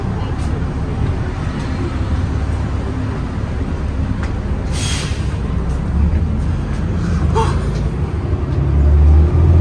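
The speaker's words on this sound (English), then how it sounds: "Oh look, two buses." Large diesel buses rumble past in a busy street near an old train yard in Cambridge, a steady loud engine drone with a rising surge at the end, under faint background voices.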